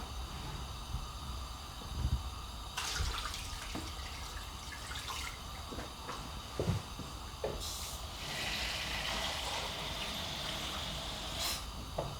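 Water, 2.5 litres of it, being poured into a hot pan on high heat for lamb pilau rice, a continuous splashing, hissing pour with brief clinks and drips.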